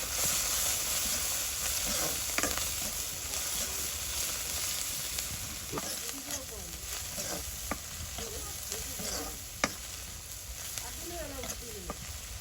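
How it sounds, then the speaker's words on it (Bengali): Small river fish sizzle in hot oil in a village kitchen, a soft, steady frying hiss with occasional sharper pops and crackles, fairly faint and uninterrupted by talk. "ইসা মাছগুলো আগে একটু ভাজি করে নিতে হবে"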